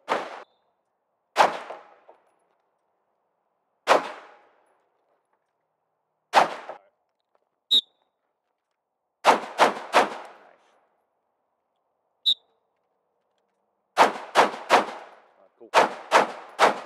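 Gunshots ring out at an outdoor shooting course, some single and some in quick bursts of two to four, loud and close, with long silent gaps between strings and a brief spoken word.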